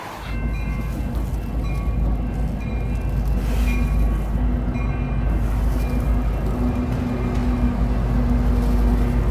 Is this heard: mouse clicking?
no